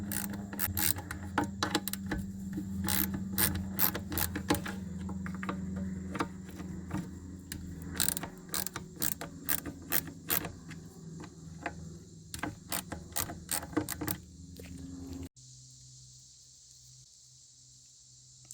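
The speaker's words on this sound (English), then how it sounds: "Next, I'm going to loosen these 8mm bolts here." Ratchet wrench loosening 8mm bolts on an LS 170 skid steer, a long run of rapid close metallic clicks in uneven bursts, pausing briefly, then falling quiet near the end with only low engine-bay hum left.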